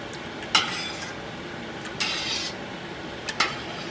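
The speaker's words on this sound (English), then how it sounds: "I have one of these slotted spoons right here, and this way when you're stirring, you can stir like this" A slotted spoon stirs a pot of raw cow milk, with soft liquid swishing broken by three or four short scraping strokes and taps against the pot.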